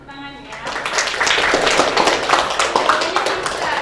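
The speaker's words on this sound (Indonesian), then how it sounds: "Tepuk tangan ya." A classroom audience at a hypertension lesson claps their hands, a busy patter of many claps that builds after a quiet start and continues steadily while a voice is heard underneath.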